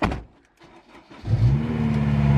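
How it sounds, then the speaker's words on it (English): A Honda S2000 engine with a new exhaust catches after a push start and settles into a steady low rumbling idle, following a second of quiet shuffling and thumps. "So we just push the car down the road and we're gonna start it."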